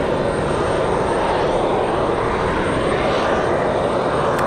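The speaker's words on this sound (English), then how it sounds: "Got an exec jet on final, private owner coming in from El Murillo" A Cessna Citation CJ4 business jet on final approach at Raleigh-Durham International on a windy day, heard as a steady, broadband engine roar that stays loud and even throughout, with wind noise mixed in and no voices.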